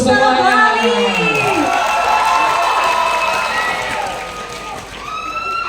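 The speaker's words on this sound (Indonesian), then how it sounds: "Tepuk tangan dulu semuanya." An indoor crowd at the GenRe Bali 2026 ambassador finalists' event cheers and whoops loudly and continuously. Voices rise and fall, and the clapping is hard to pick out.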